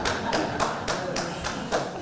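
Audience clapping at a patient question-and-answer session, heard as a handful of distinct, fairly slow claps with thudding hits.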